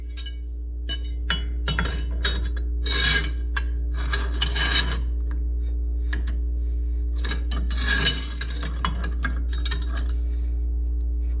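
A ratchet tightens nuts on a Classic Mini Cooper front disc brake, giving bursts of rasping clicks and metallic clinks with short pauses between strokes, close and fairly loud over a steady low hum.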